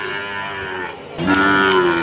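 A Sahiwal cow at a cattle market moos in a long, low, loud call, rising in strength after a brief dip, close by.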